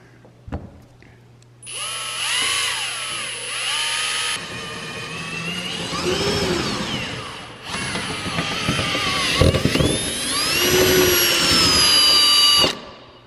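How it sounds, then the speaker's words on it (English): A power drill with a 1/4 inch bit bores holes into a Porsche Cayman S, its loud whining motor rising and falling in pitch through several sustained runs with brief pauses between them. "Bump the drill bit up to a 1/4 drill bit, and let's get drilling"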